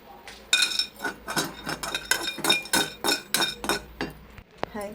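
Black cumin seeds are stirred in a pan with a utensil, making a quick run of metallic clinks and scrapes against the metal, close and fairly loud, ending with a brief rattle.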